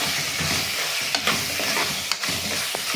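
Two tomatoes frying in oil in a pan for a chicken curry, a constant close sizzle and hiss with occasional scraping stirs of a spatula, no talking.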